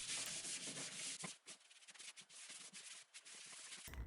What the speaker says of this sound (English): then I lightly sanded it with a pad